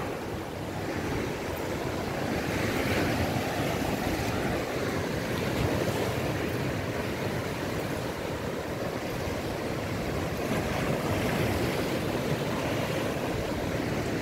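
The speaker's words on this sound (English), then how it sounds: "And this is Hastings Beach," Ocean surf rolling onto Hastings Beach on the south coast of Barbados beside the Richard Haynes Boardwalk, a continuous loud wash of breaking waves mixed with wind buffeting the microphone, no voices.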